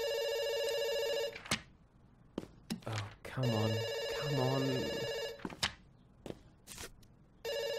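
An old-style telephone bell rings in long bursts inside a heist adventure video game, loud and insistent, with a man muttering in frustration between the rings.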